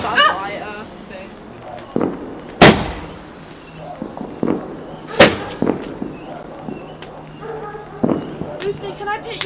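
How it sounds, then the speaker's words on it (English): Bonfire Night fireworks going off outdoors: several sharp, loud cracks and bangs scattered among smaller pops, with people chatting in between. "Can I light a firework?"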